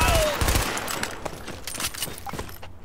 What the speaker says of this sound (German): Beschuss durch leichte Waffen. Unter Beschuss.